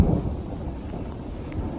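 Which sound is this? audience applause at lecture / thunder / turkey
thunder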